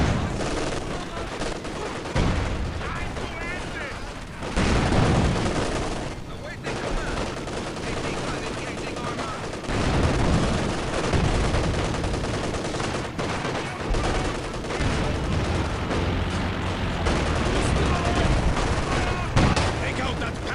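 Anti-tank gun fire against a Panzer IV tank in the Soviet campaign of Company of Heroes 2, heard as dense, continuous battle noise with repeated loud gunshot-like blasts and booms over about twenty seconds, under shouted voices.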